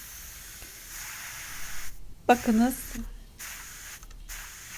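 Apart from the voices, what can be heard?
steam released from Fissler pressure cooker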